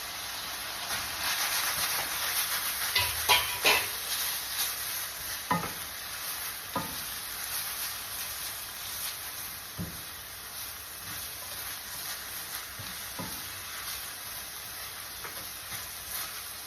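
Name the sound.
pansit canton noodles stir-frying in a pan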